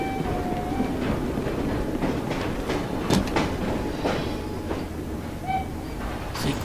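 Train passing in Assassin's Creed Syndicate, a rumbling steam-era train with rhythmic clacks, metallic clanks and brief squeals, fairly close and steady under a continuous low roar.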